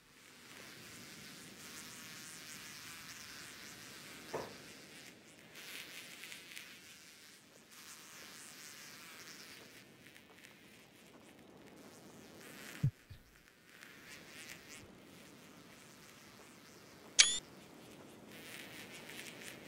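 Flies buzzing around corpses in the video game Kenshi, a faint, continuous insect hum with a few soft clicks and a sharp brief spike, mostly alone with little talk.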